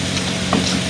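Pink papad crisps fry in hot oil in a pan, a loud, close, continuous crackling sizzle with a faint clink partway through.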